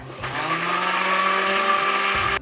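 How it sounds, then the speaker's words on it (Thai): A blender whirs steadily on lemon cream salad dressing, a loud close motor hum that starts abruptly and runs for a couple of seconds before cutting off, with no voices. "แล้วก็ปั่นส่วนผสมอีกรอบหนึ่งค่ะ"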